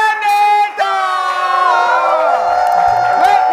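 A comedy talk-show audience cheers loudly and continuously, with sustained whoops and shouting voices.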